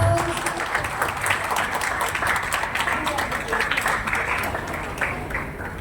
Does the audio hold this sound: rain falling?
no